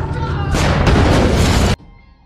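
A large explosion in a film battle scene follows a thrown smoke grenade: a loud, sustained, roaring blast that cuts off abruptly into a faint low rumble.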